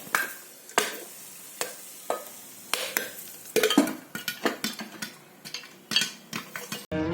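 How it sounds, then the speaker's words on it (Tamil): Popcorn kernels pop inside a closed pressure cooker on the stove: irregular muffled pops and clicks, close by and scattered, growing busier toward the end. "பார்த்தீங்களா, டொப் டொப் டொப்புன்னு பொரியுது."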